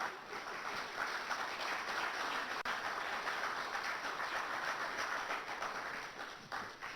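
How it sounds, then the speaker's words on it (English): A conference audience at a distinguished speaker event claps together in a steady, dense round of applause, sustained and fairly distant, lasting several seconds before easing slightly. "would you give us a round of applause"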